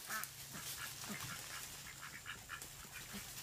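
Ducks quack faintly and repeatedly from a distance among leaves on a farm where guinea fowl also roam, the calls scattered over a steady background hiss.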